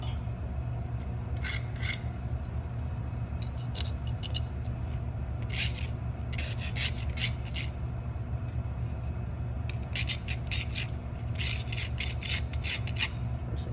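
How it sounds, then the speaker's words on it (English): A hand file rasps copper bits off a vintage 1930s headlight bucket, with short bursts of dry scraping strokes in irregular clusters over a steady low background hum. "I just need to clean up maybe some of that copper pieces there with this file."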